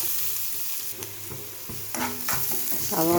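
Finely chopped onions being sautéed in a pan, a soft steady sizzle with scattered stirring scrapes that grow louder toward the end.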